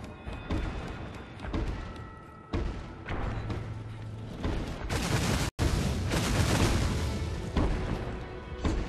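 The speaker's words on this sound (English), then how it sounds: "Just because of the ballistas that are shooting at me." Ballistas firing in the video game Dragon's Dogma: repeated heavy thumps and crashing booms in a dense, loud battle soundscape, with one sharp cut midway.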